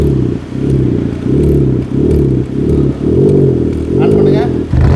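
Hyundai i20 petrol car with an aftermarket exhaust idling and revving close by, a steady pulsing engine drone with repeated short blips and a rasping exhaust tone; speech is faintly present.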